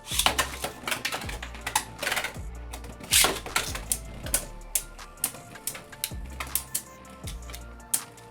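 Vanish Fafnir F7 Beyblade Burst spinning tops clash in a stadium, giving rapid, sharp plastic clicks and clacks with irregular bursts of harder hits over a faint whirring, close and fairly quiet with no talk.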